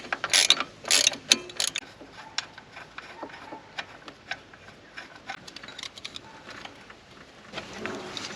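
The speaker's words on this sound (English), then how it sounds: "So we're going to loosen off the tensioner pulley for the aircon." A ratchet wrench loosens the aircon belt tensioner pulley on an 80 Series Landcruiser, giving quick bursts of metallic clicking that are loudest at the start, then lighter scattered ticks close to the microphone.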